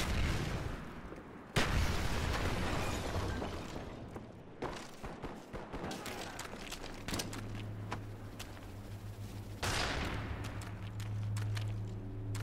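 Sticky grenade explodes during a Search and Destroy match in Call of Duty, a sharp loud blast amid a dense stream of gunfire and booms, with several more bursts and a low rumble following; no talk.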